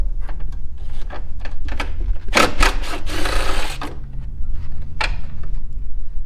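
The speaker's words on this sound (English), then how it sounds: "It's going to be 5 T30 Torx bits. I like to throw it on my impact" An impact driver rattles in a few short, loud bursts as it backs out T30 Torx bolts on a Can-Am X3 exhaust, with quieter handling noises between them.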